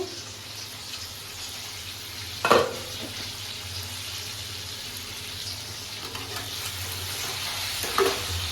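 Chicken frying in a pan for home-made butter chicken, a steady broadband sizzle throughout with two brief louder clatters of utensil or lid contact, no voices.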